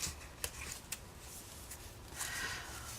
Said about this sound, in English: finger press it, and then use your bone folder.